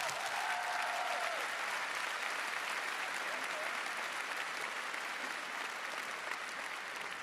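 Audience at a live concert in an arena hall applauds steadily and loudly for the whole stretch, a dense wash of clapping with no break.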